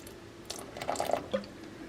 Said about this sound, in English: Take the vinegar